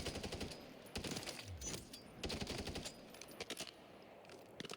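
Rifle gunfire from Call of Duty MW3 fed by a 20-round magazine, quick bursts of shots in clusters with short gaps, fairly quiet and alone.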